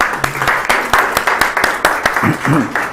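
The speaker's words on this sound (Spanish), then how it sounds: "Un aplauso para ellos" A crowd applauds steadily with dense, rapid clapping at a forensic psychopathology talk while a voice speaks briefly over it.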